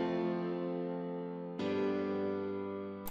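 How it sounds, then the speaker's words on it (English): Sustained keyboard chords from a remake of a song ring out, a rich harmonic tone held and fading, then a second chord struck at about one and a half seconds and held alone. "and then we have some sort of keys,"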